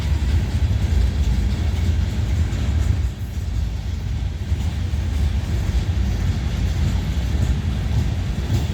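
CSX manifest freight train passing in Folkston, Georgia, a loud continuous rumble and roll of rail cars going by nearby.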